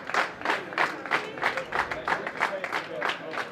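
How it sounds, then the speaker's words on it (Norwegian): Spectators at the 2012 Norwegian poker championship applauding a newly crowned champion, a steady, moderately distant round of clapping from a small crowd with rhythmic peaks. "Stor applaus"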